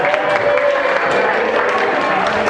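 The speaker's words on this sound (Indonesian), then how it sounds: "Tepuk tangan buat kalian." A class claps steadily for a couple of seconds, a dense, even patter of hands with some voices mixed in.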